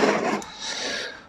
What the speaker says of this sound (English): I need to deburr the ends